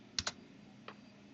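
A few sharp keystrokes on a computer keyboard while entering a CAD command: two quick clicks close together, then one more after a short pause, quiet and close with no talking.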